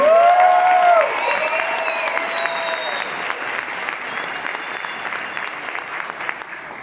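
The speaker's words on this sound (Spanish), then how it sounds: "¿Se dan un gran aplauso?" A crowd breaks into sustained applause, a dense wash of clapping that stays steady and fairly loud throughout.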